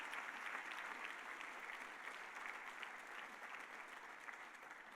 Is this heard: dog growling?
no